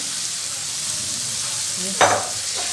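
Black chickpeas frying in a masala, a steady close sizzle with one brief stir or scrape partway through, no talking.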